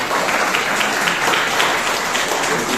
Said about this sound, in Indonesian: berikan tepuk yang meriah buat Tuhan kita